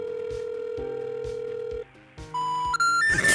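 A landline telephone call produces a repeating two-tone electronic ringback pulse for the first seconds, followed by rising tones like a disconnect signal, sounding clear and close with no talking.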